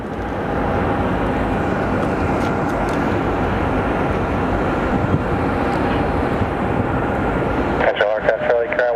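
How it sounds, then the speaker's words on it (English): A Southwest Boeing 737 MAX 8 airliner on final approach, a loud continuous engine roar that fades near the end, heard under a person talking. "Our Southwest flight from Boise is on final. It's a 737 MAX 8."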